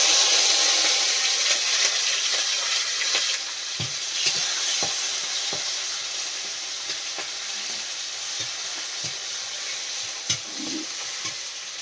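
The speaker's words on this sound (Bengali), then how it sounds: "কড়াই দিয়ে দিচ্ছি পেঁয়াজ," Chopped onion, green chili and tomato fry in hot oil in a wok, a bright continuous sizzle close by with repeated scraping knocks of a spatula as the mix is stirred.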